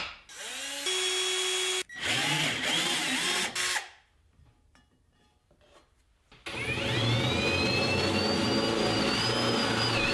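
A power drill bores holes in wood and metal for a kitchen bench, with loud sustained whirring bursts, a short pause of quieter handling, then a long high-pitched drilling run.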